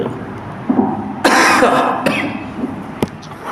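A single rough cough bursts out close by, followed by a short throat-clearing sound, with faint murmuring around it.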